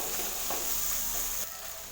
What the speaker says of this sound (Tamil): தேங்காய் சேர்த்து நல்லா வதக்கி விட்டாச்சு.